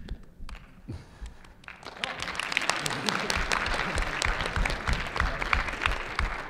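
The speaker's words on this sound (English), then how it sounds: "That was the most awkward and hesitant clap I've ever heard in my life" Hesitant audience clapping at a musician panel during a convention, starting with a few scattered claps, then swelling into fuller applause after about two seconds and holding steady, close and moderately loud.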